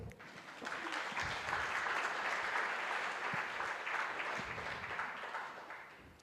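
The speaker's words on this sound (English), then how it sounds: "Can we have an applause for him?" A conference audience at a plenary session on labour market policy gives a speaker a warm round of applause. The clapping is full and continuous, swells within the first second and holds steady for about five seconds before tapering off.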